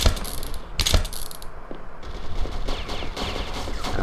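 Gunshots in a True Crime NYC gameplay scene, a few sharp close cracks near the start and then scattered fainter shots with mechanical clatter.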